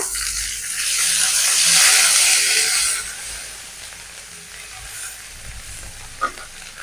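Onion paste sizzles loudly in hot oil in a pan while being stirred for a mung dal and banana flower curry, the hiss swelling and then settling to a steady fry.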